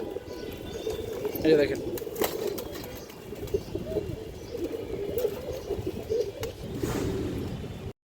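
Red Dobaz pigeons cooing softly, low and steady, under someone talking in Bengali, with faint chirps and rustling around them.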